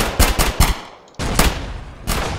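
Gunfire in a first-person video game: a quick burst of three sharp shots, a short pause, then two more spaced loud reports, close and punchy with no talking.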